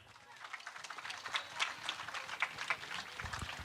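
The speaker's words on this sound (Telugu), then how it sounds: "అందరు కూడా చప్పట్లు కొడదాం" Audience clapping at a church blessing ceremony where a statue of Our Lady of Lourdes and stone plaques are unveiled with holy water; scattered, moderately loud applause runs steadily throughout, with faint voices mixed in.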